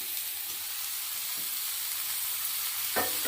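Ginger frying in a pan for a vegetable curry, giving a steady soft sizzle throughout with a few brief stirring scrapes, the last one louder near the end; no talking.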